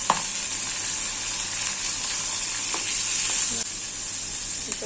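Onion paste hits hot oil with a loud, bright sizzle that holds steady, broken by a few sharp clinks of a utensil against the pan; nobody speaks.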